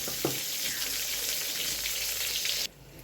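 Eggplant slices frying in a pan, a close, steady sizzle with a brief clink near the start, stopping abruptly near the end.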